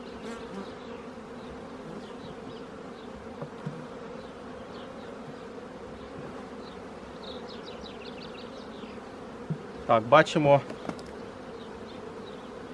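Steady insect buzzing from a mass of honey bees at an open hive during a spring inspection, continuous throughout, with brief louder bursts near the end and a voice speaking briefly.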